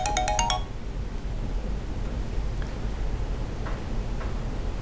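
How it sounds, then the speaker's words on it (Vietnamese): A mobile phone ringtone plays as a short burst of bright repeated electronic tones at the start, then stops, leaving low room noise with faint ticks. "Anh có điện thoại."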